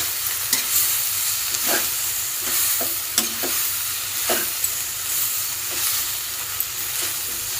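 Two bunches of fenugreek leaves fry in a pan while being stirred, a continuous close sizzle broken by soft scraping strokes and small clicks of the spoon.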